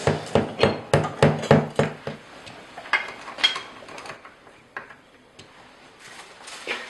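A visiophone monitor bracket is fixed to the wall with a run of sharp, evenly spaced knocks like hammering, followed by scattered softer clicks and handling noises, close and fairly quiet with no speech.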